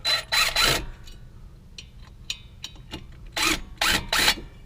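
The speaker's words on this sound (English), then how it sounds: "we'll just kind of tap it around here with a hammer" Several sharp metallic taps of a hammer on a 2005 Honda Pilot brake rotor, in quick bursts, a cluster at the start and another near the end, with a few lighter knocks between, close and fairly loud.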